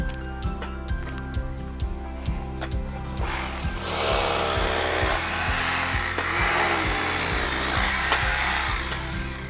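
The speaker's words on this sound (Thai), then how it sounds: "กำลังเจาะ นะครับ เจาะพุกเพื่อจะยึดพุกยึดท่อนะครับ" A power drill bores holes for wall anchors to fix termite-control piping at a house under construction. Steady rhythmic ticking gives way to a loud, sustained grinding whine, close by, with no talk.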